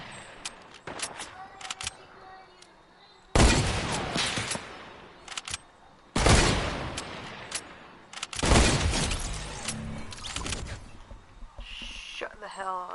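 Three loud hunting rifle shots ring out in a video game, each a sharp blast with a long rumbling tail, spaced a few seconds apart over quieter clicks and ambient game noise.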